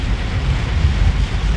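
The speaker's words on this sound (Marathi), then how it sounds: "पाऊस चालू आहे जोरात ना" Heavy monsoon rain and swollen rushing water at Malshej Ghat form a loud, continuous low roar with wind buffeting, no voices.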